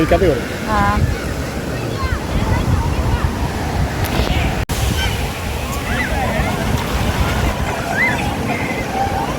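Ocean surf washes and rumbles close by under gusty wind noise, with people's voices talking in the background.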